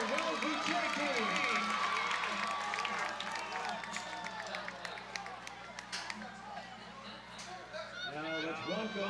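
Stadium crowd at a Wellesley high school football game cheering and applauding through the whole stretch, a dense continuous roar with scattered claps and whoops, an announcer's voice over the noise.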